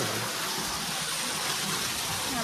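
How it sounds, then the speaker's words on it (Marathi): Water pouring down from above at a hillside stay in Mahabaleshwar, a steady, dense broadband rush that stays constant and fairly loud throughout with no talk over it. "सो गाईज हे असं वरून पाणी."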